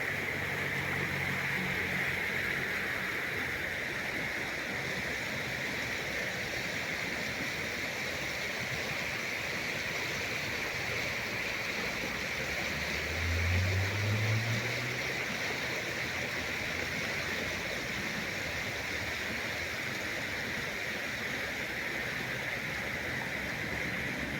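The Dragor river flows through Bitola with clean mountain water from Pelister, making a steady broadband rush that continues unbroken with no voices and a brief low rumble near the middle.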